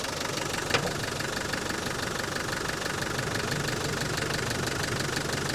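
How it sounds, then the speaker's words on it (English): A 1998 Land Rover Defender 90 300Tdi diesel idles steadily up close, a loud, even clatter with no speech. "Engine runs nice and smooth."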